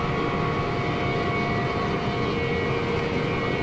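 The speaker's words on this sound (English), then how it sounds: "Now the exterior sounds sound like the interior APU sounds for some reason." Simulated auxiliary power unit of an Embraer E175 in Microsoft Flight Simulator, heard from outside the aircraft as a steady, loud mechanical whine and hum with tonal layers, continuous throughout and without speech.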